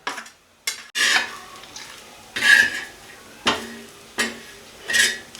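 Coconut roasts in a pan with repeated scraping strokes of a spoon or spatula against the metal, about six separate bursts with brief pauses between them, close and fairly loud.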